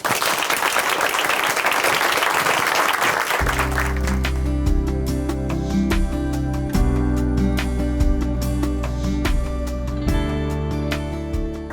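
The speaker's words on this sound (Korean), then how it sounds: "박수로 모시겠습니다" Audience applause greets a speaker at a Korean church television program, broad and steady for about three seconds before giving way to music with a steady beat.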